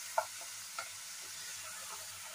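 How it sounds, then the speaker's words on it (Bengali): Spice paste (masala) sautéed in a pan for paneer rezala, with two brief scrapes of stirring over a faint, steady background sizzle, fairly quiet and with no talk. "এই মশলাটা একটু কষে নিতে হবে"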